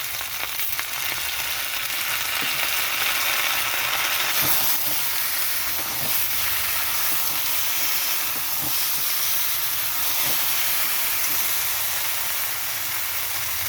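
Tomato, green chilli and ginger paste fry in a pan for a fish curry, giving a loud, continuous hissing sizzle with occasional faint clicks of a spoon.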